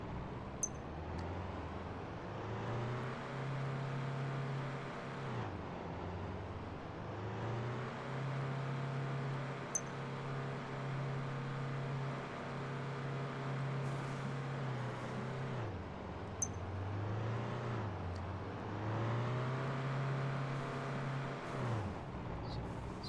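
A rock crawler's engine in the off-road game Pure Rock Crawling revs steadily, holding a sustained droning tone that repeatedly dips and climbs as the throttle changes, heard alone and fairly loud throughout.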